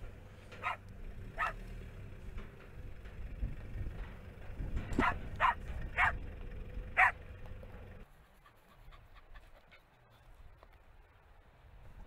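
A dog barks several times at a distance during an outdoor strongman competition in Iceland, sharp separate barks over a crowd and arena hum, with no voices up front.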